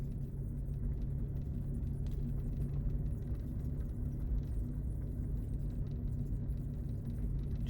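A 4x4 vehicle creeps slowly through snow, its low engine rumble and crunching drive noise steady and continuous from start to finish, with no voices.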